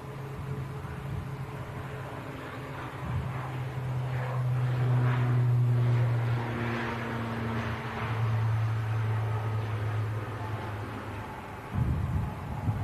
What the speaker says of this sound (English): Aer Lingus ATR on the way out to Dublin